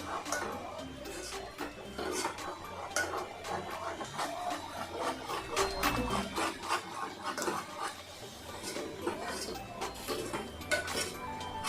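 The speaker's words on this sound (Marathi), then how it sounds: "जोपर्यंत तेल सुटत नाही तोपर्यंत चांगलं हलवत राहायचं." Mutton curry being stirred in a pot, with continuous scraping and clattering of a utensil against the metal, moderately loud and close, no talking.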